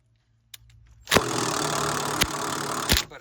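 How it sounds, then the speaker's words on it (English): A high-torque impact wrench spins a stuck front sway bar link bolt in one loud, continuous whirring burst of about two seconds, with sharp clacks at the start, middle and end. "you get a high torque impact and you try to spin it up"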